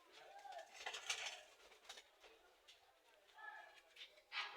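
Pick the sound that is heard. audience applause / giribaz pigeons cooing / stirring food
giribaz pigeons cooing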